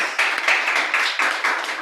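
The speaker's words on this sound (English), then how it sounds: "Let's give Toastmaster Wesley a round of applause" A round of applause for the Toastmaster at a Toastmasters club meeting, steady clapping from a small group, fairly close and continuous throughout, with no talking.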